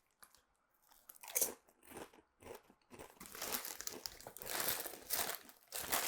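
Crunchy crisps being bitten and chewed close up, with repeated loud crunches and crinkling bursts coming in uneven clusters and no talking.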